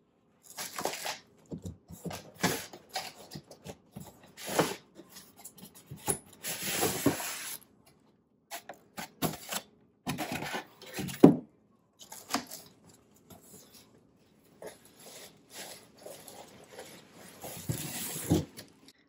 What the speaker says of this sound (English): Let's pull out the TV and see how the TV looks.